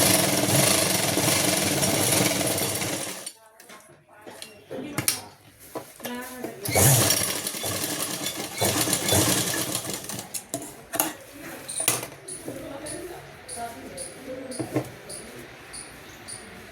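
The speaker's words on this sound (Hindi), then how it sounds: "उसी तरह से आपको सिलाई लगानी है।" A sewing machine stitches a half elastic belt onto palazzo pants, its motor whirring in bursts with brief pauses between runs, fairly close, while someone talks over parts of it.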